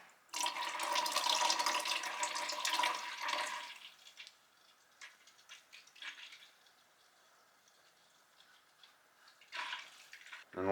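Diesel fuel treated with an anti-gel additive and agitated, pouring in a loud, steady splashing stream for about three seconds, then easing into quieter trickles and drips with a brief renewed splash near the end.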